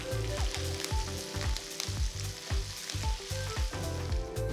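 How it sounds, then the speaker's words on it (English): Chopped onions, green chilies and curry leaves sauté in hot oil, a close, steady sizzle broken by a regular rhythm of spatula scrapes and knocks against the pan, with no voices. "add 2 onions finely chopped, 2 green chilies chopped, a few curry leaves, and saute well for about 2 to 3 minutes."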